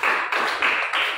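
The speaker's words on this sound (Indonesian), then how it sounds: "Ya, tepuk tangan." A short burst of classroom applause, several hands clapping in quick rapid succession for about a second, fairly close.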